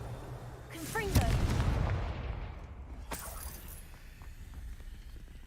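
A Confringo blasting spell fires in the Hogwarts Legacy video game: a loud booming burst with a rising magical whoosh and a rumbling tail, followed moments later by a second sharper crack fading into ambient noise.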